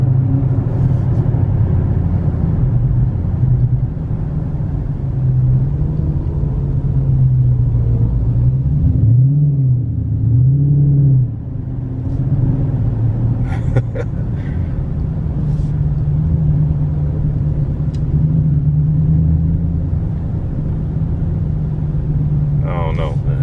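A Chevrolet Camaro engine rumbles low and steady from inside the car, swelling briefly in a couple of revs midway, with a voice talking over it.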